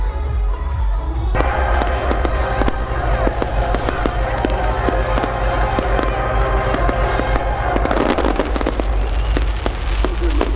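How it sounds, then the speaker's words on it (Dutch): Fireworks crackle and bang continuously at close range, a dense run of sharp pops and bursts with a low rumble underneath, while people talk and call out over them. "En vuurwerk!"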